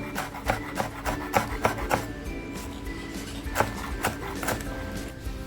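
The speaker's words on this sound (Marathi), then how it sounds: "मिरची घेतली आणि मिरची अगदी बारीक कापतीये" A knife finely chops green chili on a board, giving a series of crisp, closely spaced taps in uneven bursts, near and moderately loud over a faint background hum.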